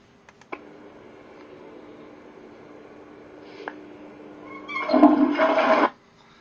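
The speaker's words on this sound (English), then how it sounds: "Got a very powerful flush there" A public toilet's flushing trough releases a powerful flush, a loud rushing burst of water near the end, preceded by a high squeak and a few faint clicks.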